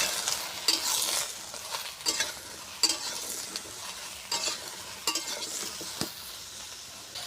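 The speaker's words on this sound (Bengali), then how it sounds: "এবার আমি ঝিঙ্গেগুলো এক এক করে ভেজে নিচ্ছি।" Slices of ridge gourd fry in hot oil in a pan, a steady soft sizzle broken by repeated scraping and stirring clatters, close and moderately quiet.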